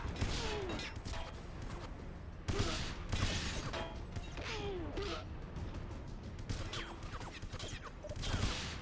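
Gunfire and explosions from the PS2 shooter 007: Everything or Nothing (2004), with dense, continuous shooting and crashing bursts throughout, busy action noise with no clear pauses.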